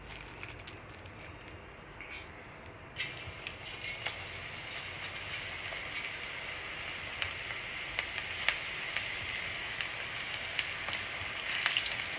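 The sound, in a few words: onion pakodi batter frying in oil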